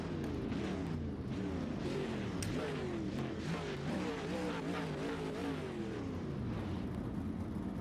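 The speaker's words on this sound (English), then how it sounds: "Race car goes vroom vroom" Pro Late Model stock cars in the iRacing sim roar off together at a race start, a loud dense pack of engines revving and accelerating, with rising and falling pitch sweeps layered over each other throughout.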